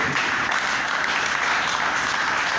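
A church congregation applauds God during a sermon, producing a continuous, even wash of many hands clapping together at full strength from start to finish.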